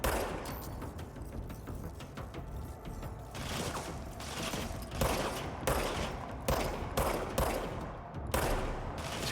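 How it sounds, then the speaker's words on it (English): Enemies firing guns in the video game Control: bursts of rapid gunfire and loud shots, dense and fairly close, running through the whole stretch with no talking. "Now they started to shoot."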